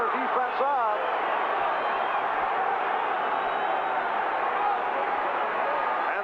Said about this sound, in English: the crowd urging the 49er defense on